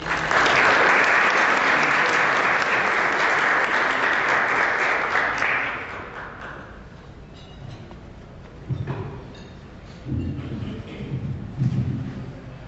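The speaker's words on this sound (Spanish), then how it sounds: "Démosle la bienvenida con un aplauso al licenciado Sergio Vaso." An audience claps warmly to welcome a speaker at a formal lecture, dense, even applause for about six seconds that tapers off into scattered claps, shuffling and a few low murmurs.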